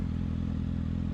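Motorcycle pulling away slowly as the clutch is gradually let out with no throttle in a parking lot, a steady low engine rumble with light mechanical clatter, close and continuous.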